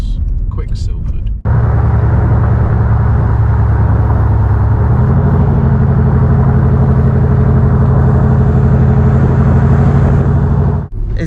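A Land Rover Defender diesel with a Quicksilver exhaust idles with a steady, loud droning rumble that steps up slightly in pitch partway through, bracketed by brief clicks at start and end.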